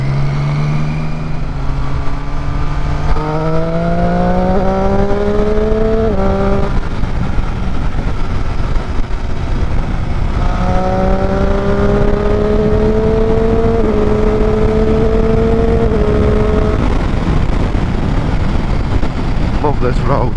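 A Triumph Street Triple R motorcycle rides along a road, its engine loud and close throughout, rising and falling in pitch through gear changes as it accelerates, with steady wind noise underneath.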